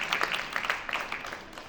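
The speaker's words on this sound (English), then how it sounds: "let's give a big round of applause to all of the teams tonight" Applause for teams at an evening innovation contest, a brief round of clapping with distinct individual claps that starts fairly strong then thins and fades.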